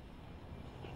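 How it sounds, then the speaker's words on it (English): A propeller airplane drones overhead in Left 4 Dead 2 as a steady, low, rumbling hum throughout a brief moment, with no voices. "Oh, that's a plane."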